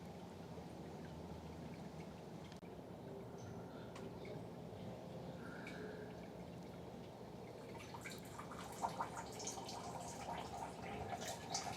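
Water begins trickling and pouring from a far pipe of a home-built self-refilling hydroponic system, a faint steady flow that grows busier and splashier toward the end.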